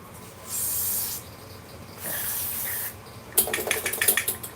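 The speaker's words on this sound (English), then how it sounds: "I spray through the main jet. And then spray the idle jet too." Two steady bursts of spray hiss, each about a second long, as cleaner is sprayed through the main and idle jets of a 150cc scooter carburetor, then a sputtering, crackling spray at the end. Close up, with no talking.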